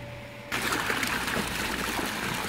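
Fountain water splashing and trickling steadily in an urban courtyard, starting abruptly and continuing as a loud, close, constant wash.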